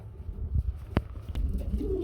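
Lahori pigeons coo in short, soft, low bursts close by, with a brief sharp click in the middle and faint background noise.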